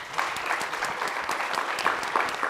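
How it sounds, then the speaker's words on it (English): An audience at a leadership academy alumni panel applauds, a dense, steady wash of many hands clapping at moderate volume with no talk over it. "Let's give her a round of applause."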